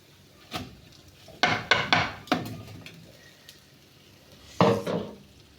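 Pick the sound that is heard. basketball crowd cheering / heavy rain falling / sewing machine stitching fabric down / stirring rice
stirring rice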